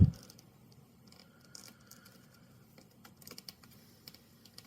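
Origami paper is folded for a Pikachu head, making soft close crinkles and light taps as the paper is creased and pressed. The handling noise stays faint and irregular.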